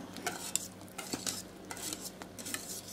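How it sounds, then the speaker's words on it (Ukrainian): A spoon stirs a thick starch custard cream in a pot, making continuous soft scraping and sloshing strokes at a quiet, steady pace. "Постійно треба помішувати, тому що дуже пригорає."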